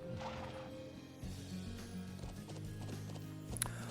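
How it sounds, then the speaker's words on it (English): Horse hooves clop in a steady rhythm in The Legend of Heroes: Trails of Cold Steel, over a low background hum, fairly close and moderately quiet, with a brief sharp sound near the end. "Horses! We get to ride horses."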